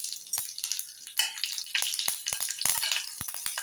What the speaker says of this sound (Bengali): এবার আমি এর মধ্যে গোটা জিরে আর 2টো কাঁচা লঙ্কা ফোড়ন দিয়ে দেবো।